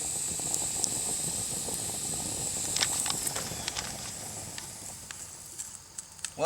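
An egg frying over the fire of a survival torch rocket stove, a steady faint hiss with small crackling pops scattered throughout.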